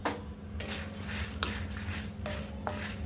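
Spices including cardamom and cloves with curry leaves being roasted in a pan, with a soft steady sizzle and occasional metal spoon scrapes against the pan.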